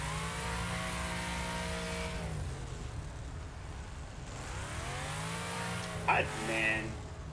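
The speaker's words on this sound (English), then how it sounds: "Engine's all messed up." A damaged car engine in a racing video game revs, its pitch sliding down, dipping, then climbing again, loud and up close with a whining, uneven tone, and a short squeal near the end.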